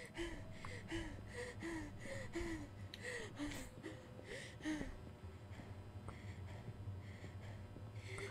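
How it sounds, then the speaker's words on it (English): A frightened character in a horror video game breathes in quick, repeated gasps and shaky inhales, a soft, evenly paced pattern set over faint game ambience. "did her breathing change because she's scared?"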